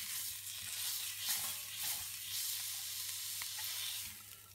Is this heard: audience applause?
no